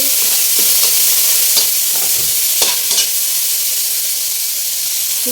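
Tomatoes drop into a hot frying pan with a steady loud sizzle and hiss, a few clacks of stirring poking through the continuous frying noise, no voices.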